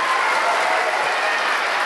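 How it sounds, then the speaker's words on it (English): Audience at a school assembly applauding a girl called up to sing, a dense, loud, sustained burst of many people clapping at once. "Give Katie a round of applause."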